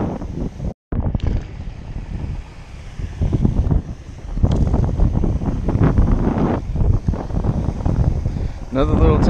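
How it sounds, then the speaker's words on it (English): Strong wind roaring across a pond while bass fishing, heavy buffeting rumble on the microphone with water splashing and a fountain nearby, with a voice talking underneath. "It's super windy"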